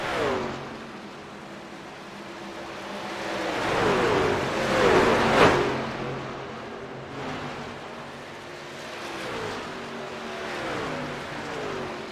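Stock cars race around Atlanta Motor Speedway in a PC NASCAR oval-series game, engines droning and rising in pitch as cars pass close by in waves, with no talk.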